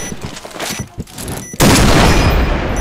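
A burst of rapid, loud Point Blank video game gunfire erupts after a second and a half of quieter clatter, continuing densely to the end.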